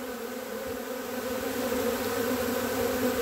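Thousands of swarming bees hover around an old box of honeycomb, making a dense, steady, close buzzing drone that holds evenly and swells slightly louder toward the end.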